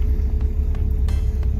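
A Pontiac Firebird with a 5.3 engine cruises on the road, giving a steady, deep interior rumble with a constant low drone and faint ticks, with no talk.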